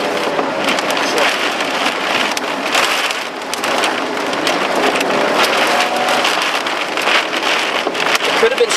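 Heavy rain lashes down during a tornado with extreme wind in Tulsa, Oklahoma, a loud, continuous roar of pounding water and gusting wind buffeting the microphone throughout.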